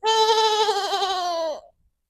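A single sheep bleat, clear and close, a wavering tonal cry lasting about a second and a half before cutting off into silence.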